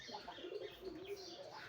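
Local desi pigeons coo softly and faintly nearby, a few low rolling coos running together over quiet background.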